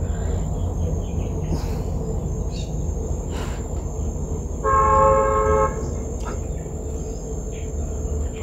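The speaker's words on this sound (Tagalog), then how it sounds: "Ang busina ng barko." A loud, sustained ship horn blast sounds for about a second in the middle, over steady outdoor ambience with insects chirping.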